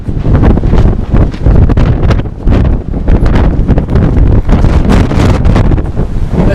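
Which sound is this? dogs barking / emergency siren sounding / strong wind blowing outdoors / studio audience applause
strong wind blowing outdoors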